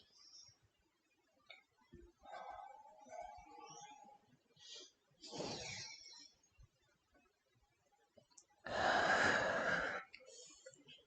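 A person exhales audibly during hatha yoga practice, with a few soft breaths and faint movement sounds, then one long, strong breathy release near the end in a quiet room.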